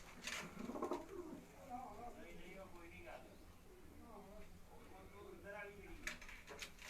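Champion racing pigeons coo in a rooftop loft in Gujranwala, soft repeated calls running under steady nearby talk and background murmur.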